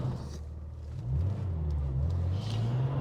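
A 1996 Porsche 911 (993) Turbo heard from inside while driving on a farm road, its engine a low rumbling drone that rises and steps up in pitch as it accelerates, moderate and steady, no speech.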